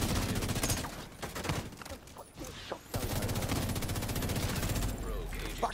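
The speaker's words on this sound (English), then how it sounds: "Fucking shotgun, man." Rapid gunfire rattles in The Division 2, dense bursts of shots in quick succession, loud and close, with a short dip in the middle before sustained firing resumes.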